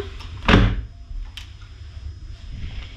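A house door closes with one firm thud, followed by a few faint knocks and light handling sounds in a quiet room.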